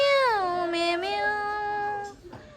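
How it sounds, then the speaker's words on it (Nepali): A cat at a family home lets out one long, close meow that starts high and slides downward, drawn out for about two seconds and then tailing off, with no other sounds around it. "बिरालो देखेर ए म्याउ म्याउ म्याउ म्याउ"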